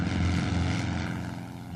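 A small propeller plane flying the traffic pattern over Merrill Field, its engine drone steady and fairly loud, easing slightly toward the end, with no talk.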